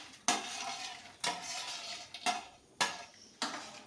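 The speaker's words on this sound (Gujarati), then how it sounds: "એને સખત આપણે હલાવ્યા જ કરવાનું છે" A halwasan mixture of milk, flour and fried edible gum is stirred hard in a pan, giving repeated scraping strokes with a faint sizzle, roughly one stroke per second, close and fairly loud.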